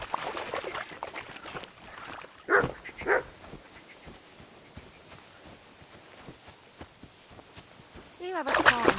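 A dog barks in the medieval open-world game Kingdom Come Deliverance II: two sharp barks in the middle, with soft footsteps or hoof clops throughout and a character voice speaking at the start and end.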